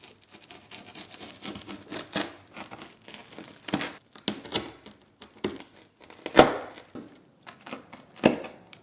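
A rolling pizza cutter slices through crispy, browned-bottom pizza in a grid of squares, giving loud crunchy crackles in bursts, with sharper snaps near the end, close up and without talk.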